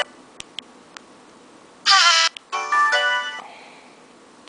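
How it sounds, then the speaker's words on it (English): Default ringtone of a Hello Kitty Samsung U600 phone: bright electronic melodic bursts, close and loud, in two short phrases with nothing else around them. "There's default ringtone."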